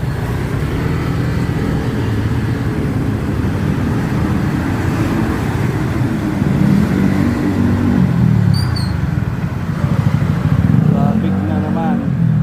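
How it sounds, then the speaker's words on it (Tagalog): Busy street traffic near a parade in Malolos, Bulacan, with cars and motorcycles passing in a steady, dense roar of engines that swells now and then, a few brief horn-like tones cutting through. "Traffic na naman dito maya maya. Traffic na nga agad."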